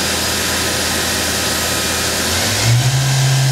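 Spindle of a Fadal VMC-4020 vertical machining center spinning up, a steady high whine and hum that lifts in pitch near the end, heard close and without talk.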